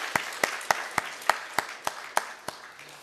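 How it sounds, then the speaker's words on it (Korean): Slow, evenly spaced claps from a church congregation honoring the choir during a Korean Sunday service, about ten distinct hand claps in a steady rhythm, fairly close and moderately loud. "박수 한번 하겠습니다"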